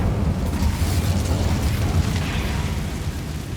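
The Incendio fire spell roars in the Hogwarts Legacy video game, a loud, sustained crackling burst of flame with mechanical clattering and rumbling underneath.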